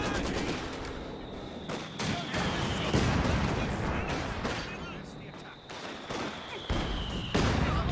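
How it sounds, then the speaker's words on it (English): In a Company of Heroes 2 match, mortar shells burst amid continuous rattling gunfire, making a dense, loud battle din with repeated heavy impacts throughout. "Oh, that was a huge mortar shell there."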